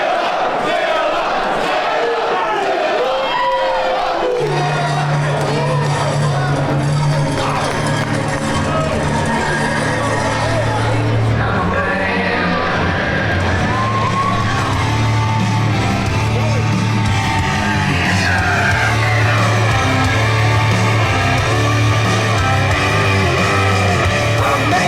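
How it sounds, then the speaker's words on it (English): A packed wrestling-event crowd roars and yells continuously at high volume, with sustained chant-like tones rising through the din and no break in the noise. "listen to this crowd."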